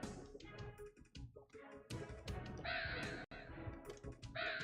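Birds caw in the video game A Hat in Time, with repeated harsh, loud calls over a busy music and game-sound background.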